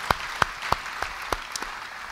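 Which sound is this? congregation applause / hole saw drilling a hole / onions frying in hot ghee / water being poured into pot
congregation applause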